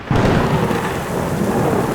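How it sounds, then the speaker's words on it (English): A thunderstorm unleashes a torrential downpour at a fixer-upper house, with loud dense rain roaring steadily and thunder rumbling low underneath, no voices. "We had a torrential downpour."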